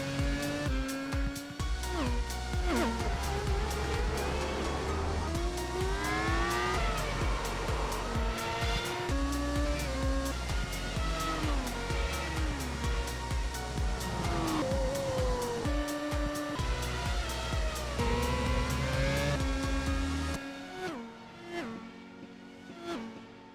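A pack of World Touring Car race cars in a sim racing game at Phillip Island streams into the first turn. Overlapping engine notes rise and fall steadily and loudly with gear changes, then thin out near the end.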